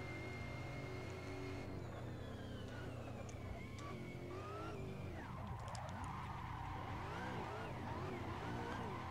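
A Chevrolet Corvette HGK in Assetto Corsa drifts around the Long Beach street circuit, its engine droning steadily with shifting pitch as revs rise and fall, and tyres squealing in the second half.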